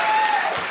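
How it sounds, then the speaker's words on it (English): A brief moment of crowd applause at a live podcast taping before an audience in Seattle, with steady, fairly full clapping throughout the short span. "More applause."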